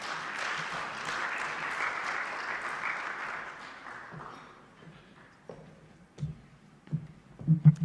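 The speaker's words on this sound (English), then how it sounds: "Please clap for her as she joins us." Audience applause at a civil society conference in Uganda as the keynote introducer comes to the stage, steady clapping for about four seconds that thins out, followed by scattered taps and thumps.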